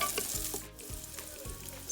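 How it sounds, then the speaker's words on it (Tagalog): Garlic sautéing in a pan while Filipino beef nilaga is prepared, giving a steady, close oil sizzle with occasional stirring scrapes throughout, with no talking. "Next ay igisa na natin ang ating bawang"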